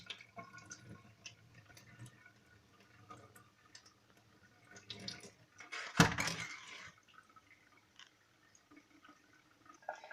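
Water runs and splashes briefly near the middle as plums are dipped under a cold running tap, with small drips and clinks of the plums in a bowl before and after.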